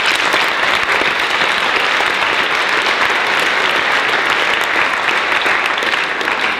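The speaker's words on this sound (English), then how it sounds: "Let's give them another round of applause." Dense, sustained applause from a school audience at a cum laude induction ceremony fills the room evenly and loudly throughout.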